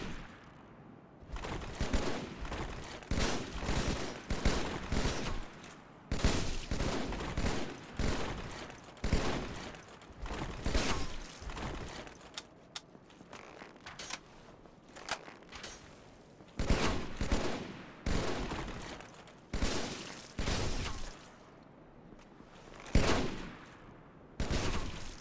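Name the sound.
gunfire from guns in Dark Souls Remastest mod video game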